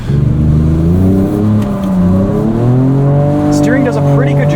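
A 2024 Ford Ranger Raptor drifts on a track, its engine loud and close as it revs and swings in pitch through the slide while tires squeal near the end, and a voice talks over it.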